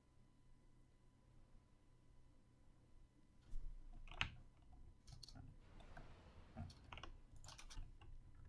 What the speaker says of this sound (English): just typing a little something in the chat